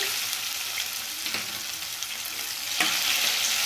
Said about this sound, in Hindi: तो हरी मिर्ची को भी हल्का सा भून लेंगे